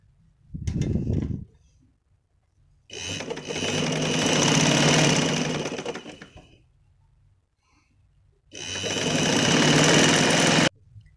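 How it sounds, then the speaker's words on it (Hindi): A sewing machine stitches a folded fabric hem in loud bursts, a short run first and then two longer steady whirring runs separated by quiet pauses. "अब मैं आपको इसकी सिलाई लगा के दिखाती हूँ"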